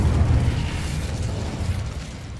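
An Incendio fire spell cast in a Harry Potter video game, a loud continuous fiery whoosh and rumble that fades slightly over a couple of seconds.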